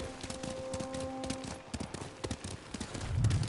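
Horse hooves clip-clop in a rhythmic trot across the terrain in Ghost of Tsushima. The steps are close and fairly clear over faint game ambience, with no talk.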